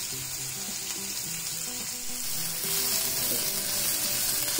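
Onions frying in a pan, turning brown for an egg and potato gravy, give a steady close sizzle that grows slightly louder toward the end, with no talk.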